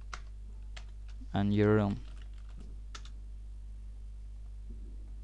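Computer keyboard typing of IRC client commands, soft scattered clicks before and after a brief stretch of talk, fairly faint and close.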